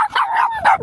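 A pregnant female dog on rural land outdoors gives two sharp, loud barks in quick succession, close by, with no talk over them.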